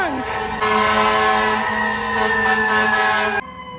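A fire truck's loud blaring horn sounds a long sustained blast nearby, cutting off abruptly, with street traffic around it.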